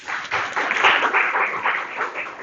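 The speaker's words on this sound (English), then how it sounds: "Please give him a round of applause." Audience at a community meetup in Kuala Lumpur applauding, a dense, even wash of clapping that holds steady for a couple of seconds, close and fairly loud, with no talking over it.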